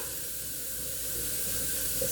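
Marinade poured over pork chops laid flat in a pan, a steady wet pouring and splashing hiss that runs continuously and close throughout, growing slightly louder toward the end.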